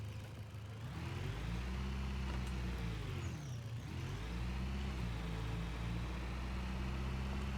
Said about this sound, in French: Je fais un tour en voiture